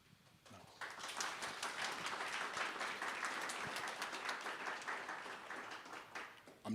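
A symposium audience breaks into sustained applause, dense clapping rising quickly and holding steady for several seconds before tapering, heard from within the room.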